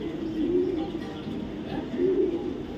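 A female pigeon of a light colour, kept as a caged racer for sale, coos softly in two low rolling phrases close by, over a steady murmur of background noise.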